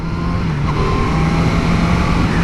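Kawasaki Z900 motorcycle engine holds a steady, loud, close drone while the rider shifts up a gear on a road ride, with the pitch dipping only slightly during the shift.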